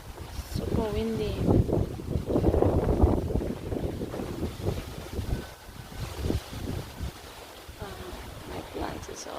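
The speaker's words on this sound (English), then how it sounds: "Super windy." Strong outdoor wind gusts in uneven surges that toss garden plants about, a rough, rumbling roar on the microphone, with a person talking over it.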